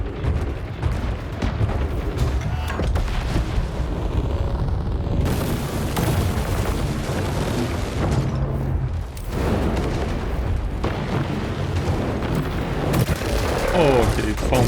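Weapons fire from battling robots in the War Robots: Frontiers video game, with the new titan Volta in play: dense, continuous booms and gunfire running the whole stretch at steady loudness, with a voice talking beneath at times.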